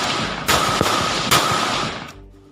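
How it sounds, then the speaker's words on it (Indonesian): An Indonesian military assault rifle fires semi-automatic, two sharp loud gunshots about a second apart, each followed by a short echoing tail. "Artinya bisa menembak semi otomatis, satu tarikan picu, satu tembakan."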